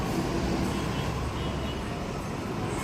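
Heavy, congested road traffic rumbles nearby, a dense, constant low roar of engines from cars, buses and trucks with no breaks in the sound.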